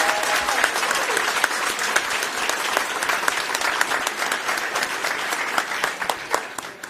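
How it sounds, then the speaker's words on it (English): Audience at a county public safety awards ceremony breaks into sustained applause, a dense, even wash of many hands clapping for about seven seconds, fairly loud and close. "All right, let's give everyone a round of applause."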